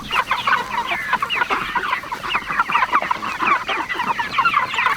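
Farm chickens cluck steadily and close by in a busy, overlapping flock, with a rooster among them, continuing throughout with no talking.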